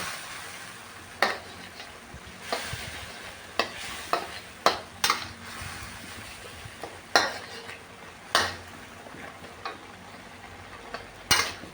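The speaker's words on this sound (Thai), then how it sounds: "เราจะผัดจนแครอทสุก" Carrots are stir-fried in a pan, with a soft steady sizzle under repeated sharp scrapes and clinks of a utensil against the pan at an uneven pace, fairly close and with no talking.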